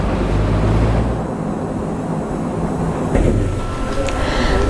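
Parry People Mover, a brand new lightweight rail vehicle on driver training runs along the Severn Valley Railway, giving a steady low rumble with mechanical whine and a brief clunk near the end, under voice-over talk.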